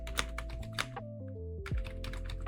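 Quick, close key clatter from a computer keyboard, irregular bursts of clicks with brief pauses, over a faint tonal hum from the software.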